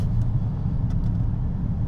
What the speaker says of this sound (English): slap it into sport, you hear the engine thunder on